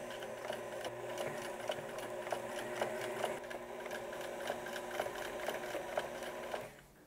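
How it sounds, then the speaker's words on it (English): Sewing machine running a zigzag stitch on stretch fabric for a 70s mock neck top, a steady close rhythmic clatter lasting several seconds before it stops. "is a nice little zigzag stitch just to make sure that seam sits nice and flat"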